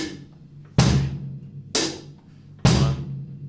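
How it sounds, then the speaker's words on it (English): Drum kit hi-hat keeping a steady four-note pulse with bass drum added on beats 1 and 3, struck close and loud, each hit decaying before the next, played alone without talk. "So we're going to keep the same pulse going on the hi-hat"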